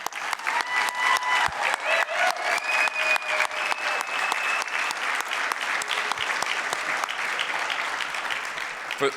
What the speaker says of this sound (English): Let's give him a round of applause so we can hear it back there.